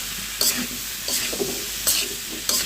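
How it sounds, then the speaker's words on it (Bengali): Potatoes and fish-head masala stirred in a pan for a potato curry, with spoon scrapes at regular intervals over a low sizzle, close and moderately loud, no voices. "এখন আমি নেড়ে চেড়ে মিশিয়ে দিচ্ছি"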